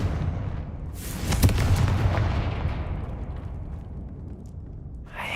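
Confringo explosive spell cast in the game Hogwarts Legacy, a single loud close blast about a second in, followed by a long rumbling decay that fades over several seconds.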